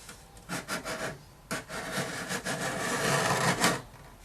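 A chisel worked like a card scraper along a wooden binding channel, squaring its corner: close, dry scraping strokes in a steady back-and-forth rhythm, short separate rasps first, then longer continuous ones, with no voices.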